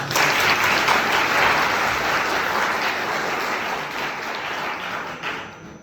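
Students in a lecture hall break into sustained, dense applause that fills the room for several seconds before tapering off at the end, with no speech over it.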